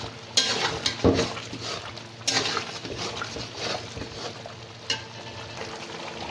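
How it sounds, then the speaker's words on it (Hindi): Mutton with ground garam masala being stir-fried in a karahi, a steady hiss of oil with scraping stirs and a few sharp clanks of a utensil against the pan. "इसको अच्छी तरीके से भी भूनते हैं"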